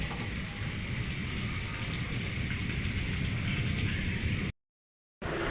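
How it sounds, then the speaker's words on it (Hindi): Heavy rain pouring steadily at night, a dense continuous hiss and patter close by, moderately loud, with a brief cut to silence near the end and no voices. "बहुत तेज़ बारिश हो रही है।"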